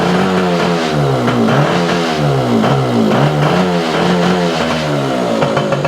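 A Yamaha Campus 60 moped engine held at steady throttle, revving loudly up close, then repeatedly sagging and cutting out in uneven dips, with no voices.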